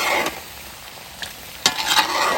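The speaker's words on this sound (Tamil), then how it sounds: "இப்போ இதை நல்லா கிளறி கொடுங்க." Chicken with sliced coconut stirred in a frying pan, a steady sizzle under a few sharp scrapes of the spatula against the pan, close and fairly loud, no voices.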